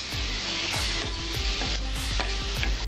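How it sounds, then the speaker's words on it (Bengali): Whole garam masala hitting hot oil for a Bengali-style tempering, a steady close-up sizzle and crackle with rhythmic scraping strokes of a stirring spoon repeating every fraction of a second. "গরম মশলাটা দিয়ে দেবো ফোড়নে।"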